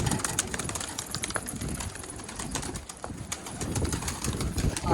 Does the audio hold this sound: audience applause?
no